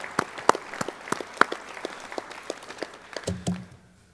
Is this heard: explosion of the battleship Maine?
no